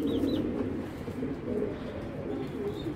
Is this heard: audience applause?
no